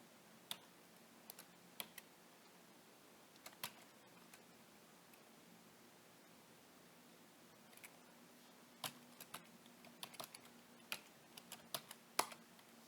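Keys clacking on a computer keyboard during Arduino programming, faint and sparse, with scattered single taps and short bursts of typing in a quiet room.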